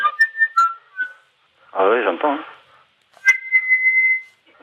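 A person's voice imitates the shrill, wavering cries of a seagull being eaten, one warbling burst lasting about half a second, heard over a phone line between stretches of talk.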